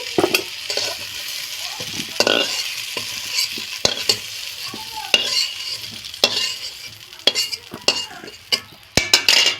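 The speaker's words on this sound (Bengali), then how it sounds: "বেগুন আর আলুটা কয়েক মিনিট ভেজে নেওয়ার পর এগুলোকে তুলে নিচ্ছি" Brinjal and potato pieces seasoned with salt and turmeric fry in mustard oil, a close crackling sizzle punctuated by sharp, irregular spatula scrapes and clanks against the pan.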